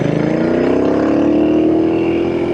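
A Royal Enfield Interceptor 900 motorcycle engine revs loudly and steadily, with a deep bassy drone whose pitch climbs slowly throughout, close and alone with no talk.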